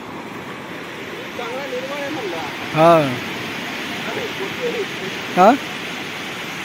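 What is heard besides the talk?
sea waves on Tarkarli beach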